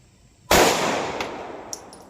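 A single sharp, loud report from a Glock 42 pistol with an upgraded trigger firing a .380 Defender XTP round, close by, followed by a decaying ring-out and a faint click or two.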